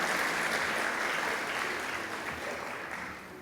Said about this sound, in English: I think African First Ladies deserve a round of applause